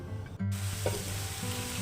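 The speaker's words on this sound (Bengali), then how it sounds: "ফ্রাইং প্যানটা বসিয়ে দিয়েছি অল্প একটু তেল দিয়েছি একটু জিরে ফোড়ন দিয়ে মশলা দিয়ে" Cumin seeds and spices sizzle and fry in a little oil in a frying pan, a steady close hiss with a brief stirring scrape, no voices.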